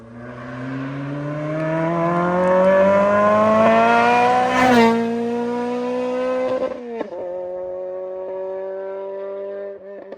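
A car on a race track with its engine rising steadily in pitch as it accelerates, loud and close, then a sharp shift or lift followed by a steadier, lower drone; no voices.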